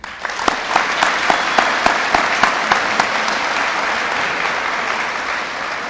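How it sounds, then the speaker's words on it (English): Graduation audience applause at a high school ceremony, a dense, loud wash of clapping with a few sharp, prominent claps near the front early on, holding steady throughout. "So I want to give you a hand of applause."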